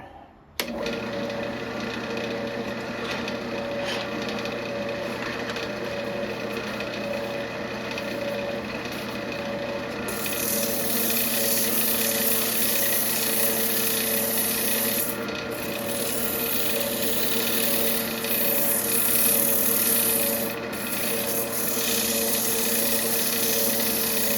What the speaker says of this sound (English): Just an old belt from my belt sander. I like to hit the pieces real quick.